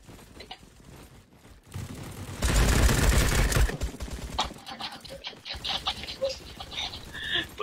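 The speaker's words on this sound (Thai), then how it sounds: "ฟังเสียงปืนแล้วเหมือนแบบเหมือนยิงปืนประทัดเด็กเล่นอ่ะ" Rapid gunfire from the Roblox video game, a dense run of popping shots that swells loud for a couple of seconds and then continues in scattered bursts, with voices talking over it.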